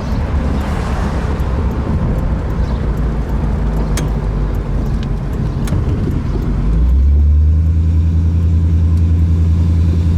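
A 1964 Studebaker Daytona convertible's 259 V8 rumbles while driving with wind rushing past, then the engine note deepens and swells as it accelerates.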